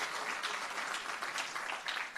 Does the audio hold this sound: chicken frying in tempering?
no